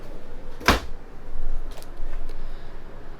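A deep drawer in the kitchen of a 2019 Forest River Georgetown RV is pushed shut with one sharp close thump, followed by faint small rattles.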